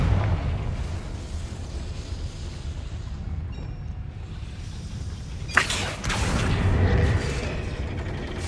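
A Confringo fire spell blasts in Hogwarts Legacy on PS5, a sudden loud burst partway through followed by a rumbling, crackling explosion tail over steady low game ambience.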